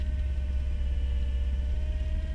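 A Cat skid loader plowing dense, thick snow over gravel drones with a low, steady, labored engine rumble and a faint whine, continuous and close with no talking.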